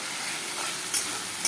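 Spice paste frying with onions alongside meat, a dense steady sizzle up close with two brief scraping clicks, no voices.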